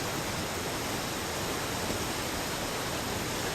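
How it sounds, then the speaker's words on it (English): Cool spray and steady roar of a waterfall, a dense unbroken hiss heard close up and constant throughout. "I'm enjoying this cool spray from the waterfall."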